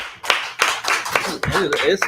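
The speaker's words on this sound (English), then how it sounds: "Clap it up for all these brothers." Several people clap together at an outdoor religious gathering for the Feast of Firstfruits, with uneven, overlapping hand claps near the microphone and voices talking over them.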